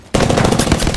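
Apex Legends gunfire bursts in abruptly, a loud, close, rapid automatic volley of shots sustained to the end, with no talk over it.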